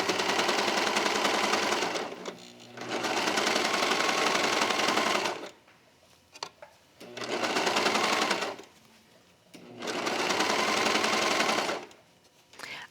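Sewing machine stitching through three layers of an embroidered flannel garment cuff, running in four long loud bursts of rapid steady stitching separated by short pauses with faint handling noises.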